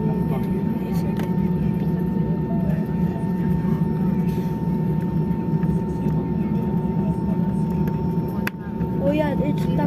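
A Cebu Pacific airplane taxis with a steady, loud low engine rumble and a constant whine, heard from inside the cabin; faint voices sit under the drone and a brief bump occurs near the end.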